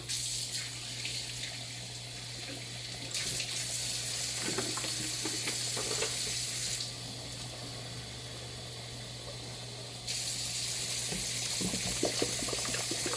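Steady hiss and bubbling of homemade chili simmering in a pot with added water cooking down, with a faint sizzle throughout, a constant low hum underneath and occasional soft clinks; no voices.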